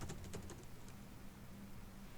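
Someone types on a computer keyboard into a search bar, a short run of quick, faint key clicks over a low background hum with no talk.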